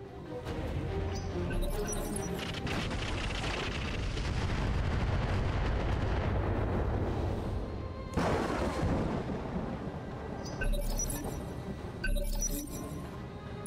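Sniper artillery fire rumbles through a Battletech Roguetech mech battle, a continuous heavy roar of distant blasts and crackling debris with a sharper burst partway through and metallic clinks near the end, no voices.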